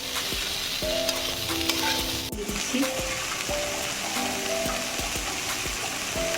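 Dhenki fern greens fry with onion and mustard in a pan, a dense, loud sizzling hiss broken by repeated scraping stirs of a spatula at an even pace.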